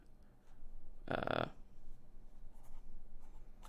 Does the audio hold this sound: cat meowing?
no